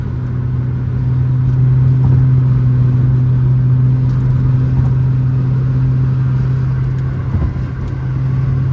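A 2004 Chrysler Crossfire's engine hums with a strong, steady drone heard from inside the car, swelling slightly as it pulls, with no talk.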